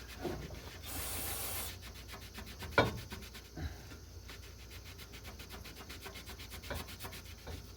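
Steady rubbing and scrubbing against a metal Reese hitch, wiping primer off with brake cleaner in preparation for welding, with a sharp spray hiss near the start and one crisp clack midway.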